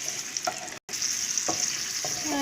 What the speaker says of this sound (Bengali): এবারে আমি পেঁপেগুলো দিয়ে দিচ্ছি।